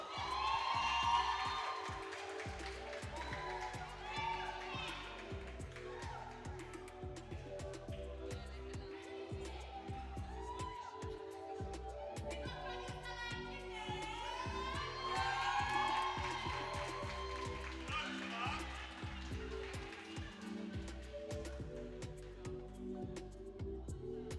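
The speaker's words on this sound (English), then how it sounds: "we're going to keep the applause going for Larisha Wilson" At a university communication studies award ceremony, an audience cheers and whoops continuously for an honoree, a loud, sustained wash of crowd noise with voices throughout.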